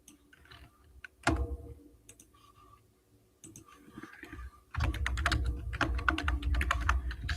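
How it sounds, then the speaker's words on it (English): Computer keyboard being typed on, a clicky typewriter-like board with the keys set around, heard close up in bursts: scattered keystrokes at first, then a steady, rapid run of loud clacking taps toward the end. "Still getting used to this keyboard. It's like a typewriter with the keys around"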